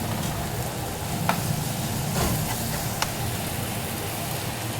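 Finely chopped onions frying in a pan, giving a steady close sizzle with a few faint clicks of stirring throughout and no talk.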